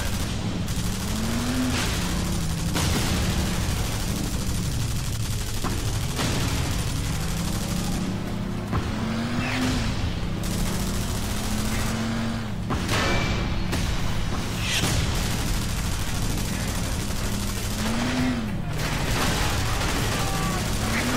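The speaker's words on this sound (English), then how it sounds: "Apparently I'm driving and shooting at the same time." Gunfire from a vehicle being driven in Frontlines: Fuel of War, repeated bursts of shots over a steady engine drone, loud and continuous, with a voice talking throughout.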